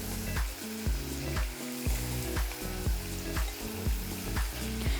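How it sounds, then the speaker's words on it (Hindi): Potato pieces for french fries frying in hot oil, a steady broadband sizzle with repeated low thuds and clatter, probably music or handling, running underneath throughout. "तो हम इसमें डाल देते हैं अपने आलू, और इसको कर लेते हैं झटपट तैयार।"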